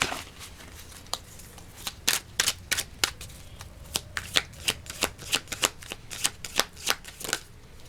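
Tarot cards are shuffled near the mic, a run of sharp riffling snaps in an irregular rhythm, growing denser toward the end with no talk over them.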